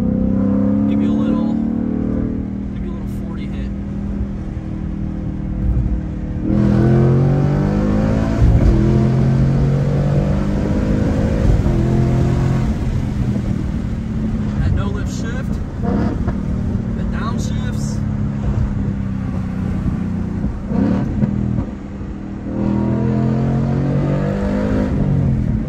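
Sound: Ford Mustang with X-pipe exhaust accelerating in second gear

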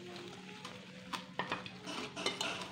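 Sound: whisking gram flour (besan) batter in a bowl

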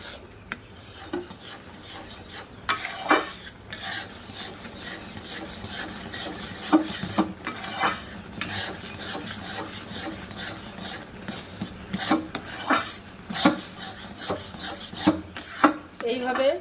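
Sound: stirring roasted flour into boiling water

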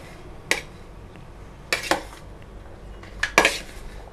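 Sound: mixing spiced chickpea sundal in a vessel

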